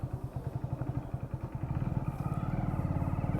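A Hero Splendor motorcycle engine thrums on a ride in steady, rapid low pulses that grow slightly louder and fuller partway through, close and continuous with no talking.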